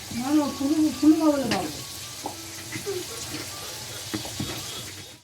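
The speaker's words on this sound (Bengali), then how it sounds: "আর মা লুচি ভাজছে" Luchi, Bengali puffed bread, frying in hot oil in a village kitchen, giving a faint, steady sizzle and scattered soft crackles, with a voice speaking over the start.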